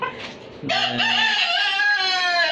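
A desi rooster kept with caged hens in a small backyard farm lets out one loud, close crow. A short cluck comes just before it, and the long drawn-out call then sustains to the end.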